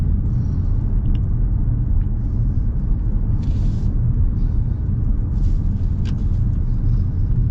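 Engine of a 2026 Ford Escape ST-Line accelerating on the road, a loud, steady low rumble with road noise filling the cabin, and no talk over it.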